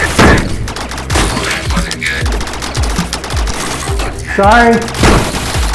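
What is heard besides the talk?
gunfire in Rec Room VR video game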